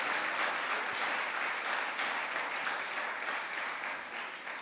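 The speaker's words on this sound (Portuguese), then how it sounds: "Se vai aplaudir, aplauda dando glória a Deus." A church congregation applauds steadily during a service for several seconds, dense clapping that fades slightly toward the end, heard from a short distance.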